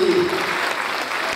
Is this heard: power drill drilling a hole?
no